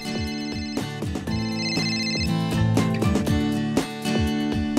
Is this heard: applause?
no